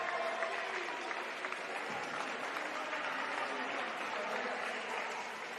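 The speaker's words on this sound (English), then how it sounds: "The Fredericks family giving a good cheer there." A family cheers and claps steadily in a crowd at a wheelchair rugby league plate grand final, a continuous wash of applause and cheering heard from a moderate distance.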